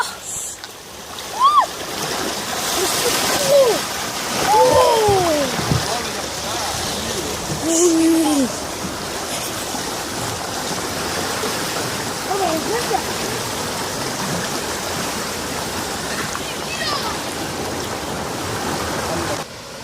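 The Meder river rushes in a steady, loud broadband roar as its water level rises, with excited voices shouting over it in the first half before the flow continues alone.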